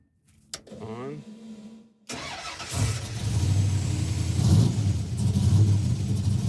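A race truck's engine cranks and fires up, settling into a loud, rough, steady idle. A short whirr and some talk come first, before the engine catches.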